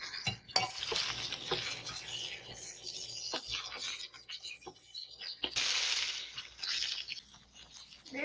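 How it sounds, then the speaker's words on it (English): Chopped onion, garlic and potatoes stirred in a pan for a turnip greens and potato dish, with scraping, clinking utensil strokes over a light sizzle, a dense rushing burst near the middle, fairly close and steady throughout. "I'm adding chopped onion. I'm adding the potatoes also into that."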